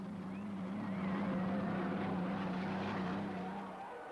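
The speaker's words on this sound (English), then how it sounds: "the whoosh or the whining of these turbine engines, not like the piston engines, much lighter, much more powerful" Turbine-engined unlimited hydroplane race boats at the 1985 Tri-Cities race sweep past side by side, a steady loud roar with a low drone and airy whine that swells and then eases slightly, no talk over it.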